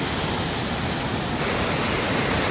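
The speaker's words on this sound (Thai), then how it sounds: "ตอนนี้ก็ลงมาอยู่ข้างล่างของน้ำตก" Dense, steady roar of a waterfall at Khao Yai, heard up close from below the falls, loud and unbroken with no voices.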